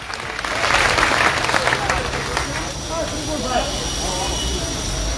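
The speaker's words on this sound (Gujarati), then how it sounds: "એકવાર એમને તાળીઓથી વધાવીએ।" A crowd gathered at a Gujarati farmers' event in Morbi claps to welcome the farmers, a broad rolling applause that swells early and then holds at an even level, with some background rumble.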